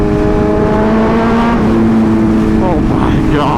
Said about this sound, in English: I don't think that'll ever get old going under bridges with this exhaust.